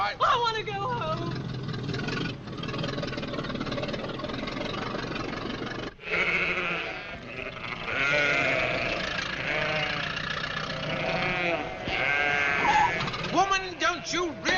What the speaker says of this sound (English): will you kindly get those sheep out of here?